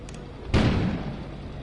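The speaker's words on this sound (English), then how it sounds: "An explosion suddenly occurred outside." A sudden deep explosion bursts out after a short lull, a single heavy boom with a long rumbling tail that fades slowly, loud and close, heard alone without speech.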